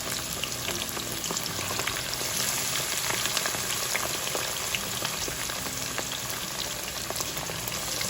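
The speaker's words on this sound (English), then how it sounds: "Now I have started frying the fish." Red snapper fries in hot oil with onion in a pot, giving a steady, close sizzle with scattered crackles and pops throughout and no talking.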